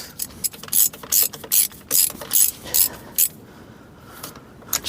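A hand ratchet clicks in quick, close bursts while nipping down spark plugs on a Skoda 120 Estelle engine, several loud runs of pawl clicks separated by short gaps, then slower scattered clicks at the end.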